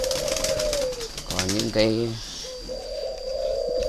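Spotted doves kept as breeding pairs coo in steady rhythmic phrases, close and clear, while someone talks over part of the calls.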